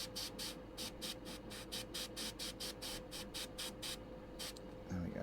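An aerosol can sprays paint onto an AMT 1/25 scale 1940 Ford rat rod model, giving a rapid series of short, even hissing bursts in quick succession, fairly faint and close, then a pause and a final burst.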